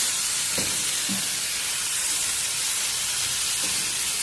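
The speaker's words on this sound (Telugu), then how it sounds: "ఇట్లా కొంచెం నూనెలో కూడా వేయించినామంటే కొంచెము జిగురు అనేది తగ్గిపోతుంది" Taro root pieces frying in oil for a curry: a continuous loud hiss of sizzling oil with a few faint clinks of a utensil against the pan.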